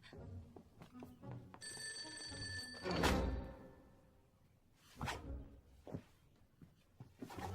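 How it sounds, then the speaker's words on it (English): A telephone rings once in a quiet room, a bright electronic trill followed by soft thumps and rustling. "Oh, the phone."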